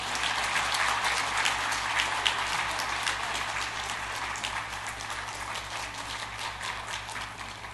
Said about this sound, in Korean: 나오실 때 큰 박수로 환영해 주시겠습니다.